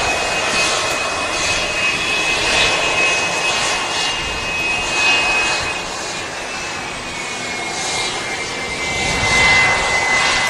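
An Embraer Legacy 500 business jet at an airport, a loud sustained jet engine roar with a steady high whine that slowly drops in pitch, swelling and easing over about ten seconds with no voices.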